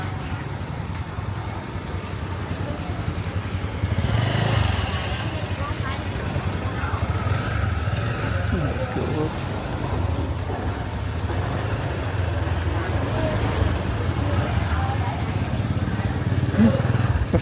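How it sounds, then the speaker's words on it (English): Motorbike and scooter engines rumble and drone continuously along a busy street in Vietnam, a steady low traffic roar with occasional rises as vehicles pass close. "The fun of competing with motorbikes and scooters."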